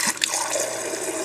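Water rushing from a newly installed refrigerator water line during its first test, a brief, loud, steady flow close by.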